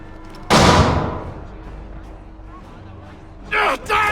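Gunfire in Assassin's Creed III Remastered: one loud close boom that decays into a rumble, followed later by shouted voices.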